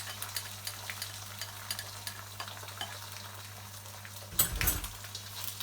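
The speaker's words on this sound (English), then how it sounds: "right now we're just gonna put in the egg" Two eggs hit a hot pan for king prawn fried rice, a sudden loud sizzle bursting up out of a quiet, faintly crackling kitchen background and then settling.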